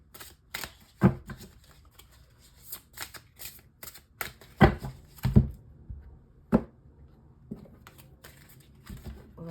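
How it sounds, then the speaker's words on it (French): Guardian angel tarot cards are shuffled by hand in a series of crisp riffling bursts and soft slaps, irregular and close, with short quiet gaps between handfuls and no talking. "je prends le tarot des anges gardiens"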